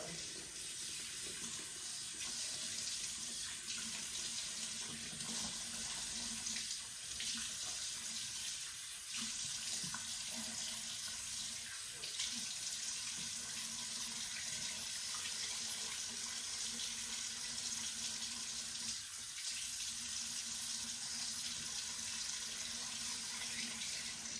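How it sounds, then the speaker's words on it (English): Warm tap water runs steadily into a bathroom sink during a morning face wash, a constant close hiss and splash that continues without a break and with no talking. "I wash with warm water."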